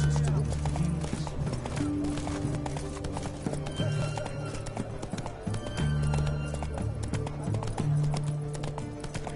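Roach the horse galloping in The Witcher 3, a rapid, steady clip-clop of hooves throughout with an occasional whinny, mixed with game sounds and voices.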